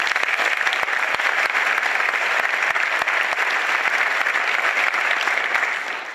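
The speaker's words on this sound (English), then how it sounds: "Let's give her a round of applause." An audience claps steadily at a school back-to-school night, dense sustained applause filling the room before tapering off at the end.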